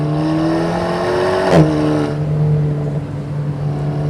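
A car driven at full throttle on a wet Nürburgring, its engine drone rising steadily in pitch, then dipping briefly at a shift before settling into a steady loud hum, with no talking.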